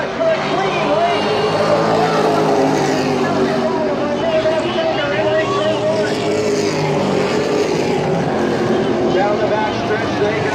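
Race cars at Jennerstown Speedway during a Saturday night thunder event, with a steady, loud engine roar running throughout under continuous commentator talk.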